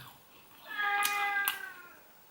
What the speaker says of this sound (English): My cat is crying from outside, wants to come inside.